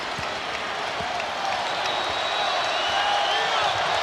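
Arena crowd at a Houston versus Texas Tech men's basketball game roars steadily for the Red Raiders, a continuous dense cheer that swells slightly toward the end.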